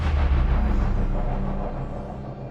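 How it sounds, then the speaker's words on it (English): A deep, booming low-end hit that swells and slowly decays over a couple of seconds, heavy sub-bass rumble with no voices. "Bass drop sound effect to add some more dimension."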